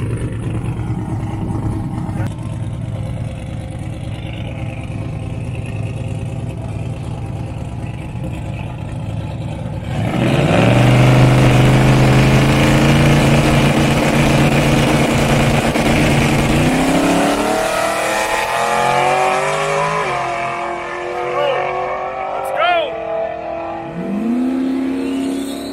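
A Buick drag car launches hard down the strip, its engine roaring loudly with harmonics sweeping upward through successive gear changes before lifting off near the end, with crowd and track ambience behind.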